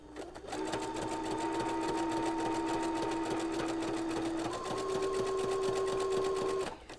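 Sewing machine stitching with a tape stitching foot, a continuous close rapid mechanical whirr of the needle with a humming motor tone that shifts pitch slightly partway through, no talk.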